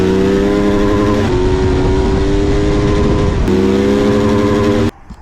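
A modified motorcycle engine revs hard and close, holding high and shifting pitch twice in sustained loud bursts before cutting off abruptly near the end.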